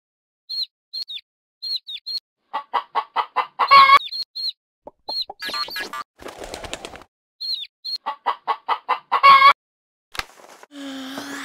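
Chickens cluck in quick rhythmic bursts, with wing flaps and a few high chirps between them, close and distinct against silence.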